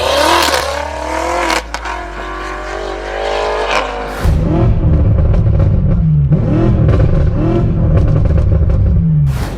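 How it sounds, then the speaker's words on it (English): A straight-piped BMW M8 Competition revs hard nearby: a loud, raspy exhaust roar that climbs in pitch, cuts out, then returns as a deeper, louder blare with repeated rising revs. "This is an M8 Competition, and he does have a straight piped exhaust."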